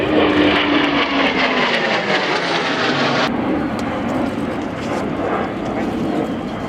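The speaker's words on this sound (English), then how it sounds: "another Royal Air Force Typhoon about to break into the circuit from our right." A Royal Air Force Typhoon jet roars loudly overhead at an air display, a broad sustained engine rumble with a falling whine that drops off sharply partway through, then continues as steady jet noise.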